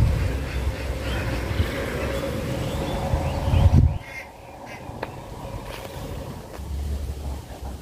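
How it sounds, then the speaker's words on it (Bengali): Strong wind buffets the microphone outdoors near lychee trees, a loud, low roaring rumble that drops away suddenly, then gusts back in near the end. "এখানটায় প্রচুর বাতাস, ভালোই লাগতেছে আবহাওয়াটা।"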